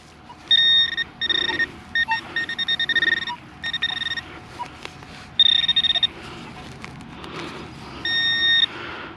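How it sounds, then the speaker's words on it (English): Metal detector sounding a loud trash signal while hunting an old town site: repeated sharp electronic tones in short bursts, fairly close, over a faint background hum. "the metal detector is not telling me to dig that. It's a loud signal and it's trash"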